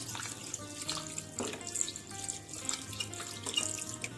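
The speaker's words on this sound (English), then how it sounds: "Keep on adding cold water." A faucet runs cold water continuously, splashing and trickling in a basin with small irregular drips, fairly soft and close.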